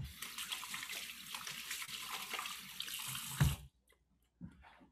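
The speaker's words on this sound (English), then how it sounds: "I'm going to rinse my hands really quickly" Running tap gushing steadily as hands are rinsed at a sink while cleaning a whole fish, a close hiss of water that cuts off abruptly, followed by a brief clatter.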